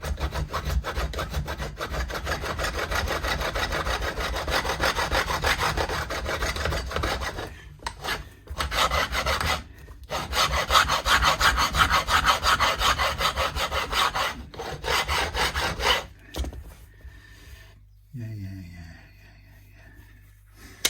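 Steady rasping strokes of sandpaper rubbing on a Fender Telecaster guitar neck after re-fretting, continuous with a few brief pauses, close by, easing off toward the end.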